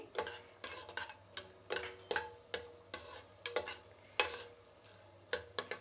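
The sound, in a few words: spices frying in hot oil for coconut rice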